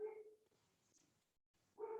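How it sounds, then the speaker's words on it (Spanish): Neighbours' dogs barking nearby in a house, two faint bursts of barking separated by a quiet gap. "están ladrando los perros de al lado"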